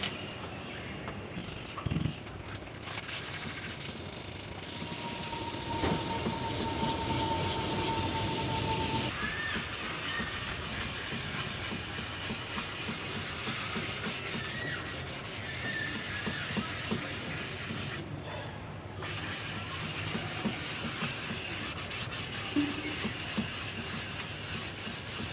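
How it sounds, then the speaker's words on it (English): Wet sanding an epoxy resin wall clock by hand with 400 grit paper, a continuous soft rasping rub that runs steadily and close throughout with small changes in stroke. "Okay, we're gonna do some wet sanding now."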